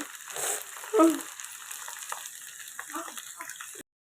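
Two dried red chilies and other tempering spices fry in a small amount of oil with a soft, continuous sizzle. A brief vocal sound breaks in near the start, and the sound cuts off abruptly at the end.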